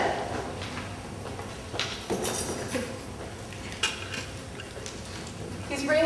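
Granola ingredients are stirred in a bowl with a utensil, giving scraping, clinking strokes against the dish at close range, with brief knocks and low background voices.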